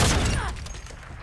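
A grenade blast in a Search & Destroy match, a single loud burst at the very start that quickly decays into a rumbling tail.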